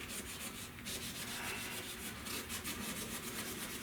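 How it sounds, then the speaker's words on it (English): Rapid back-and-forth rubbing strokes rasp along an edge as 600-grit sandpaper is worked by hand during paint prep, steady and close with no speech. "I'm gonna just sand this down around this edge"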